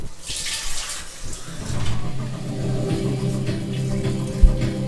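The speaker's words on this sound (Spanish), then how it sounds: "Un poquito de agua más me da falta, aquí." Water poured into a frozen fruit slush of forest berries, a steady close splashing stream that deepens into a fuller gurgle as the liquid fills, with a small knock near the end.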